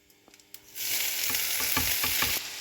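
Beetroot thoran mix tipped into hot oil with curry leaves in a Kerala-style pan: a few faint clinks, then a sudden loud, steady sizzle with stirring scrapes, fading out at the end.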